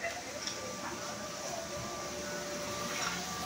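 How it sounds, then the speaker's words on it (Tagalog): An air purifier runs indoors in a room, giving a faint, steady broadband hum and hiss that continues evenly with no talking over it. "Air purifier."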